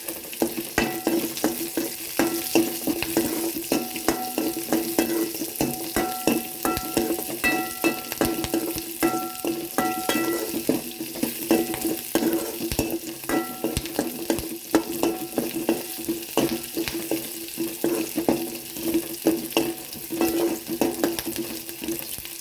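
Curry leaves sizzle in hot oil in a pan while a spoon stirs them for a Maula fish curry, giving steady crackling frying with repeated scraping stirs throughout, fairly close.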